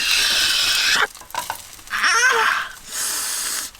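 Sausage sizzling in a hot pan in loud bursts, with brief stirring or scraping between them and a quick vocal gasp near the middle.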